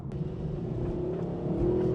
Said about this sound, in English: So we build up in speed here at Streets of Willow.